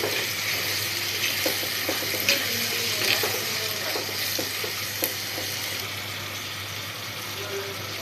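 Ingredients sautéing in a pan for a Kerala-style fish curry, a steady close sizzle and hiss running throughout with occasional soft scrapes and clicks of stirring, no voices.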